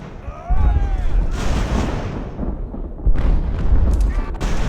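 Cannon fire in the age-of-sail naval game Ultimate Admiral: Age of Sail, heavy booming artillery blasts rolling over a dense battle din with sustained loud rumble and crackle, a second big surge of fire partway through.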